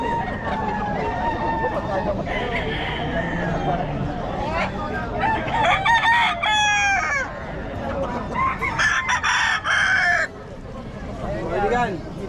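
Chickens and roosters at a chicken coop crow repeatedly and cluck, loud and close, with several overlapping crows over steady yard noise and people talking in the background.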